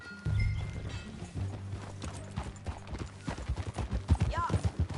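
Rhythmic hooves clip-clopping at a steady gallop over a low rumbling background in Red Dead Redemption 2, with faint talk and a brief whinny-like sound near the end.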